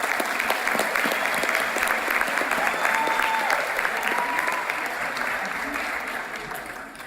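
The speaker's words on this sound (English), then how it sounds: "Please give a warm welcome applause for Mr." Sustained applause from a graduation ceremony audience welcoming Malcolm Wentworth, COO, to the stage at a 2018 Texans Can Fort Worth Lancaster graduation; dense steady clapping fills the hall for about seven seconds, fading slightly toward the end.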